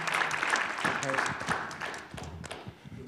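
Audience at a business event applauding panel speakers, a sustained patter of clapping across about three seconds that fades slightly toward the end, with talking mixed in.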